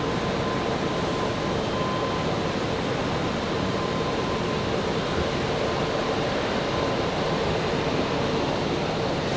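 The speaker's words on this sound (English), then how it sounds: "Got a Southwest coming in, 23 left. See if we can snag this arrival." A Southwest airliner arriving on runway 23 left at Raleigh-Durham International, heard as a steady, broad jet roar with a faint whine, holding at an even level throughout with no talk.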